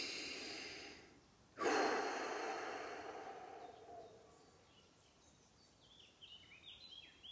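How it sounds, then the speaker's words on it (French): One deep, audible breath during a breathing exercise in a forest: a sharp intake that fades slowly over a few seconds, close and clear, with faint birdsong afterwards. "Donc là, on inspire profondément."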